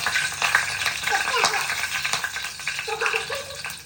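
Mustard seeds, cumin, dal and peanuts fry in hot oil, giving a steady crackle with bursts of small pops and spatters at close range, and a faint voice is heard now and then.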